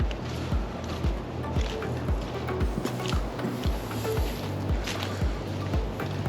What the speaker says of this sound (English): There's a lot of air going through there.